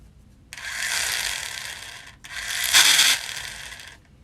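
A small electric motor drives the gears of a tiny model car in two whirring runs of about a second and a half each, a high, close mechanical whine with a brief pause between them.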